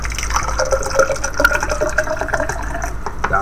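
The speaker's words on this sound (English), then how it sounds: "And I've got a bottle of water. And I'm going to say fill this about halfway," Bottled water poured into a Dutch military 24-hour combat ration pack: a steady, close trickle and splash of liquid that runs for a few seconds without a break.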